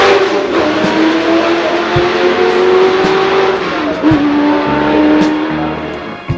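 Shelby Cobra sports car with a 425-horsepower engine revving hard and loud, a steady sustained roar with rising and falling pitch throughout, close by and with no talk.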